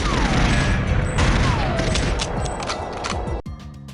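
Dense gunfire and explosive blasts from Goldeneye 007 crackle together loudly as a table explodes, then cut off abruptly near the end, leaving a brief quieter tail.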